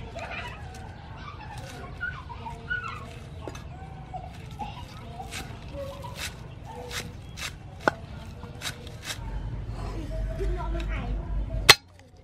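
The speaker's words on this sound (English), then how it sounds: "Then I cut green onion." A kitchen knife chops green onion on a cutting board in a steady run of sharp, fairly close taps, with a few clinks of utensils and a louder knock near the end.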